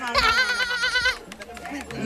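A sheep bleats in a loud, wavering cry near the start, followed by shorter grunting sounds from a voice, likely a person imitating the animal in a comedic sketch.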